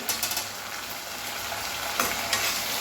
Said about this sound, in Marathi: आता हा जो टोमॅटो आहे तर तो आपण या कढईमध्ये घालून घ्यायचा आहे.